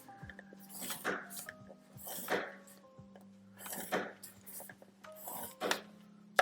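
Paper being scored along a scoring board, several short rasping strokes at irregular intervals, close and fairly quiet, over a low steady hum.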